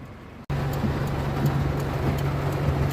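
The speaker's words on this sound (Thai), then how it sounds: "เจอฝนกลางทางครับ ตกหนักมากครับผม" Heavy rain heard from inside a car while driving beside the Mekong, a dense steady roar of rain and road noise starting abruptly and continuing loud.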